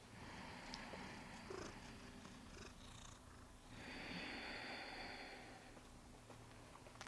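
A cat purrs close up with a continuous rough rumble and rhythmic breathy swells, steady and fairly quiet, with no talking.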